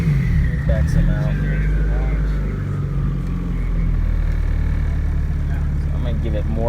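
A tuned B20 car engine runs steady and loud, droning continuously while its pitch shifts slightly, with people talking over it close by.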